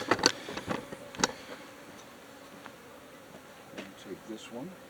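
Honeybees buzz steadily around an open beehive as frames are handled, a low, soft drone with a few sharp knocks and taps near the start.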